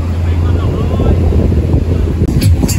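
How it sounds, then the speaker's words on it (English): Blustery wind on Sairee Beach, Koh Tao buffets the microphone with a continuous, loud low rumble, and a couple of faint sharp ticks come near the end. "aside from the weather, which to be honest isn't that bad, it's just a bit blustery"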